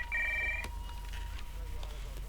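A telephone rings once in a short electronic burst of bright tones, followed by quiet room background.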